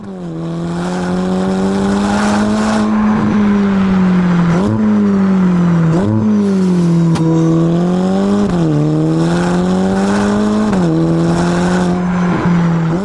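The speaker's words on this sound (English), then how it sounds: "this exhaust note is pure addiction" Twin-turbocharged V8 of a Ferrari Roma revving hard and continuously, its loud exhaust note rising and falling through quick gear changes with brief dips between pulls.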